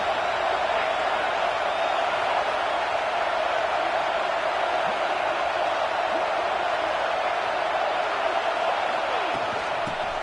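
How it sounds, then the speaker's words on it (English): A dense, unbroken roar rises from a college football stadium crowd as the home fans try to push their defense toward a red zone stop, loud and sustained throughout without clear breaks. "This crowd is trying to inspire this defense to make a big red zone stop."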